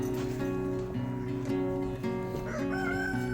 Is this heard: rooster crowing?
yes